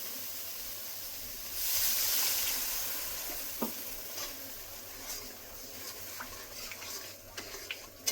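Water poured onto frying masala for a Bengali doi potol curry bursts into a loud hissing rush of steam that slowly fades, followed by scattered crackles and light stirring clinks.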